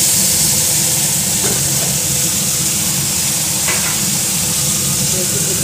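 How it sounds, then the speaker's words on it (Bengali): Vegetables cook in a pan under a loud, steady frying hiss, with a couple of brief scraping stirs cutting through the constant sizzle. "নেড়ে চেড়ে ঢাকনা দিয়ে দেবো।"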